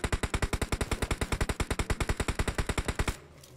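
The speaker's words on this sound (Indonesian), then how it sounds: "Temen gue itu yang nembak" Rapid automatic gunfire from a teammate in a mobile battle royale shooter, a steady burst of about thirty evenly spaced shots over three seconds, loud and close, ending abruptly into quiet.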